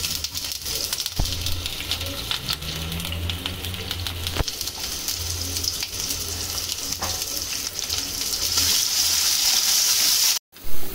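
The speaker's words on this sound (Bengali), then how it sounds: "দিয়ে দিচ্ছি পেঁয়াজ" Chopped onions fry in hot olive oil in an overheated wok, giving a steady close sizzle and crackle throughout with occasional soft clinks, ending in a brief cutout and a final bump.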